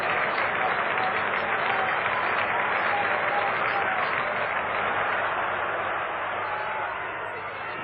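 A cricket crowd applauds a Clive Lloyd shot with dense, sustained clapping that stays loud and even before tapering slightly at the end.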